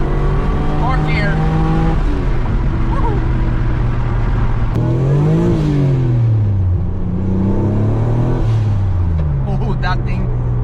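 A turbocharged street car with a rebuilt transmission pulls hard from inside the cabin, engine revs climbing and dropping sharply as it shifts up through several gears, loud and close under occasional talk.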